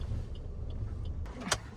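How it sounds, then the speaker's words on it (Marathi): A car parks at a hotel in Alibaug: a low engine rumble runs throughout, broken by a couple of faint clicks and a sharp clunk near the end. "आता आपण गाडी वगैरे पार्क करतो इथं"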